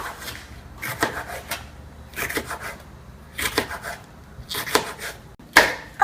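Knife slicing jalapeno peppers on a cutting board, close crisp cutting strokes in short clustered bursts with pauses between, ending in a sharper tap.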